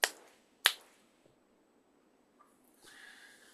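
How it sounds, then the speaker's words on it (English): Two sharp finger snaps ring out close and crisp about half a second apart, followed by quiet, a faint tap and a soft rustle at the end. "in a moment, I'm going to snap my fingers."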